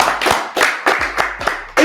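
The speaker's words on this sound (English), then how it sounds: "Can we clap it up for her?" Audience clapping at a motivational talk, coming in a few loud, close bursts of claps separated by short pauses.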